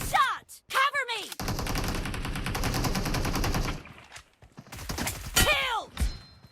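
Rapid automatic gunfire bursts from a UMP submachine gun in the mobile shooter BGMI during a team deathmatch, a sustained volley of close, loud shots framed by shorter bursts before and after.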